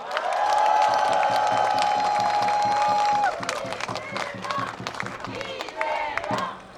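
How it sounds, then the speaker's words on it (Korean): A large outdoor crowd at a Gwangju presidential campaign rally on 5.18 Democracy Plaza applauds and cheers in a loud, sustained wash of clapping and whoops, thinning a little toward the end. "깊은 응원의 박수 부탁드립니다."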